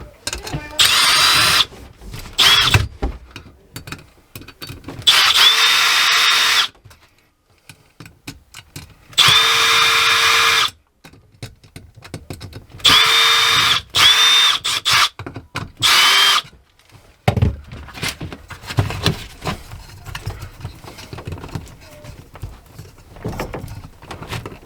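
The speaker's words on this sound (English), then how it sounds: "Get that box screwed to the floor." A power drill drives screws to fasten an electrical box to the floor. Several loud, whirring bursts of a few seconds each are separated by quieter pauses with small clicks and handling noises.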